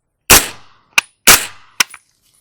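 Two close, sharp suppressed shots from a 9mm pistol-caliber carbine on a 4-inch radial delay fitted with a B&T Vers 36 Ti suppressor, each followed by a brief metallic clank.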